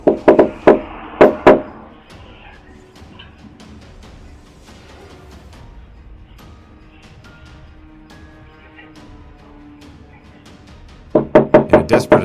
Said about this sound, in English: They continue to knock